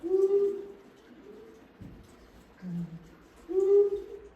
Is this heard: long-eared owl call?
yes